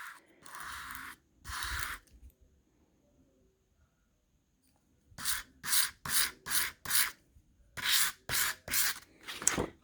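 A saddlery knife blade is drawn across a sharpening stone in dry, rasping strokes, heard up close. Two slow passes come first, then a quick, rhythmic run of about ten short scrapes after a pause.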